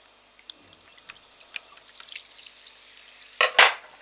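Homemade carbonated lemonade fizzes softly and continuously with scattered tiny pops and crackles, ending in two louder bursts of bubbling as it is stirred.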